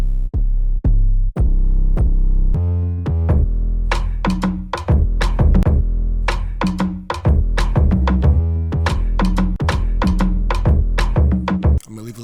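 An 808 bass in a beat, deep booming low notes under a sampled melodic loop, rhythmic hits building in density, close and loud with no talking.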